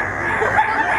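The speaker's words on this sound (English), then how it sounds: "if you live on a farm, you might even hear a chicken" Chicken or rooster vocalising at a zoo, a continuous strained crowing-clucking call that fills the whole second, fairly loud and close, with no talk over it.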